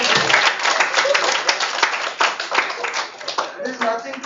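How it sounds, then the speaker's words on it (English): Audience clapping at a mental wellness club inauguration, a steady patter of hands that runs for a few seconds and thins toward the end, with voices mixed in. "Let's clap it."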